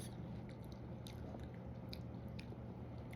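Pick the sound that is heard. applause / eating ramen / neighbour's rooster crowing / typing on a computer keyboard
eating ramen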